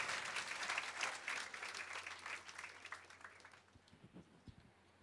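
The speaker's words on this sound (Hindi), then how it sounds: "ताली बजा के इन्हें स्वागत करें।" A church congregation at a live worship session in Delhi claps to welcome a pastor forward, dense sustained applause that stays loud for several seconds and then thins out into scattered claps.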